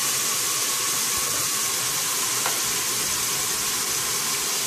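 Steady, bright sizzling of onions frying in a pan as spinach is added, a continuous hissing wash with no talking.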